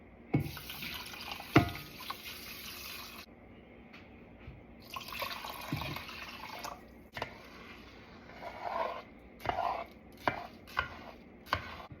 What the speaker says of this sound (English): So now we'll add 4 cups of water.